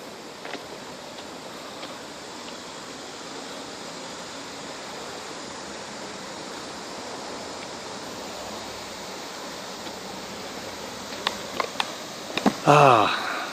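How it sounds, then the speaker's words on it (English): Steady broadband rush of a flowing river beside a grassy bank, heard close and continuous, with a few faint knocks and rustles near the end. "Look at that beautiful river."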